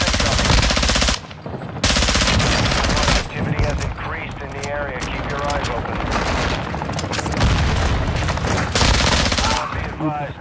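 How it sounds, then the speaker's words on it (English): Heavy automatic gunfire in the Call of Duty DMZ video game, long loud bursts of rapid shots with booming impacts, near and intense, a voice talking through parts of it. "You are taking effective fire."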